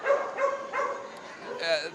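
Dogs bark and yip at a shelter pet adoption expo held in a convention center, several short barks spaced through the moment with someone talking over them.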